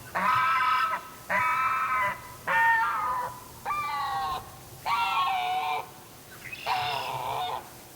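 Goose Lee, a male goose attempting to mount a Muscovy duck, lets out six loud, drawn-out honks in steady succession, each about a second long with short pauses between, close by and without talk.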